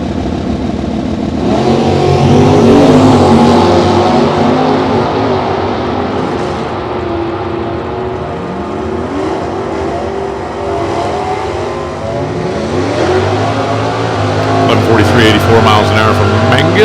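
A 1970 Camaro and a 1969 Chevelle, both with automatic transmissions, roar through a drag race, engines revving and rising in pitch through shifts, loud and close, with an announcer talking over them.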